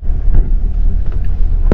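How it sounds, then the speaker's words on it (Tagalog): Strong wind buffets the microphone with a heavy, continuous low rumble and gusty roar throughout the short stretch. "Ay, grabe lakas ng hangin."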